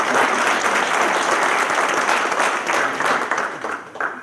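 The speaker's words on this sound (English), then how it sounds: "let's give him a round of applause" A seminar audience gives an investing-talk speaker a steady round of applause: dense, close clapping that holds throughout and dips slightly near the end.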